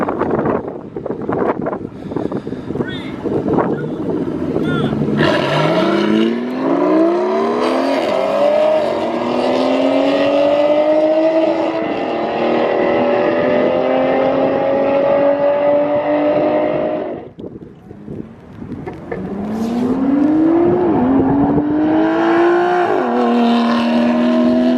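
Lamborghini Urus and Zagato hypercars race down an airport runway, engines roaring loud and close with rising gear-change sweeps, a brief dip before another car screams past, wind buffeting throughout.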